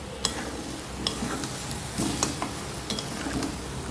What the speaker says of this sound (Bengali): এবার আমি আগে থেকে রেডি করে রাখা মশলার পেস্টটা এখানে তুলে দিলাম, দিয়ে খুব সুন্দর করে আলুর সাথে কষিয়ে নিতে হবে